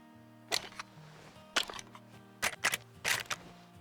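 Rifle bolt cycling in the Way of the Hunter hunting game: four crisp, close metallic clack bursts spaced roughly a second apart, the last pairs doubled, over a quiet sustained musical drone.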